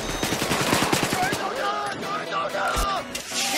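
Rapid automatic gunfire in a video game shootout, a dense burst of close shots followed by further firing, with excited players talking over it.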